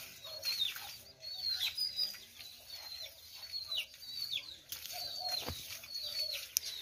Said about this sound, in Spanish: Veo que tiene una manadita ahí de pollito.